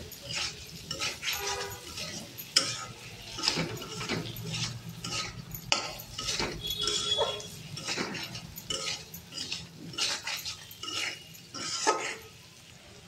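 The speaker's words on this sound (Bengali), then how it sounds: "দেখুন দিয়ে নেড়ে নেব। 5 মিনিট মতন নাড়বো, মশলার গ্যাসটা যাতে চলে যায়" Potatoes are stirred in a pan with ground coriander and cumin for a potato curry: uneven scraping and shuffling strokes with metallic clinks of the spoon on the pan, close and fairly quiet.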